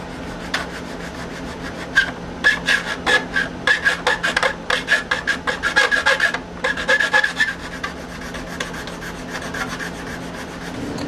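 Steady rhythmic rasping from a file working a carved diamond volute backstrap, a run of quick, evenly spaced strokes clustered in the middle, close and fairly loud, with no talking.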